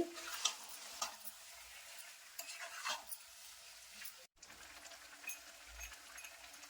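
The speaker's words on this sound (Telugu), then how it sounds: "రొయ్యలు వేసుకున్నాక ఒకసారి చక్కగా కలుపుకోవాలండి" Fried prawns stirred into an onion-tomato masala in a pan, with soft intermittent scraping and gentle sizzling at low level and a brief dropout partway through.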